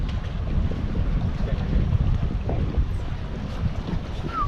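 Strong wind buffets the microphone on a fishing boat out on rough water, a steady loud roar of gusts and low rumble with waves slapping throughout.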